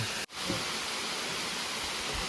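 Than Thip waterfall in Nong Khai gives a loud, broad, continuous rush of falling water, with one brief dip near the start.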